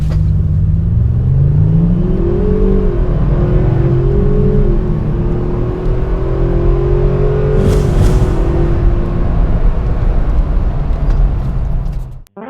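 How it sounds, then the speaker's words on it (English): Two 2019 pickups, a Ford Ranger Lariat FX4 and a Toyota Tacoma TRD Pro, accelerating in a drag race: loud, steady engine roar with rising, shifting tones throughout, ending abruptly. "Let's have a drag race."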